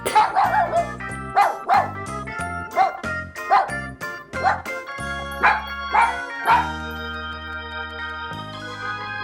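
A small dog yaps and barks in a rapid series of short, bright yips over a steady musical tone backing.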